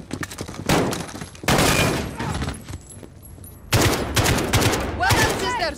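Video game gunfire from Call of Duty: Modern Warfare (2019): loud bursts of rifle and automatic fire come in several clustered volleys with short lulls between them, and some voices call out in between.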